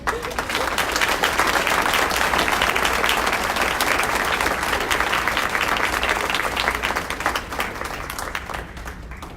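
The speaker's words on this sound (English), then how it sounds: "One more round of applause to these two amazing educators." Loud, sustained applause fills a room as the audience at a community breakfast honors two educators; dense clapping with some crowd noise, gradually thinning toward the end.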